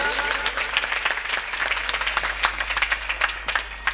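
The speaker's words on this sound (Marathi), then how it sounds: "एकदा सर्वांसाठी पुन्हा टाळी वाजली पाहिजे हो प्रेमानं." Audience at a Marathi kirtan breaks into sustained applause, dense overlapping hand claps filling the hall at close range.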